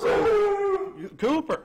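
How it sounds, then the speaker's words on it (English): A pet dog barks and howls indoors in a long, loud, wavering howl followed by two short yelping barks, with a voice speaking briefly over it. "sorry about my dog."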